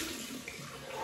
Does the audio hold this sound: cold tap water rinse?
yes